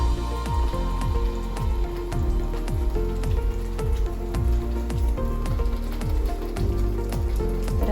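Eggs sizzling in hot masala in a pan for an Indian egg masala curry, a dense, continuous frying crackle with repeated sharp pops and spatters throughout, loud and close, with no talking.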